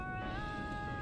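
A single short, clear cat meow from the video game Lies of P, sliding up in pitch over a low continuous ambient rumble.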